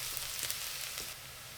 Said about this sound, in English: When the oil is hot, put the garlic until fragrant.